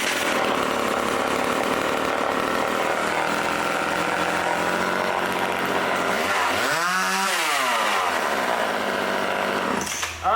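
A self-sharpening chainsaw's small two-stroke engine runs at a loud, buzzing idle, then revs up and back down in a rising and falling whine before cutting back near the end.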